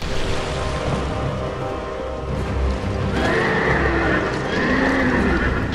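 Several horses neigh and whinny in a Dark Souls II battle, with shrill calls rising over heavy hoof stomps and a dense, rumbling combat din that swells midway through.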